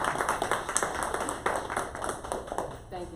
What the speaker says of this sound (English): deserve a hand clap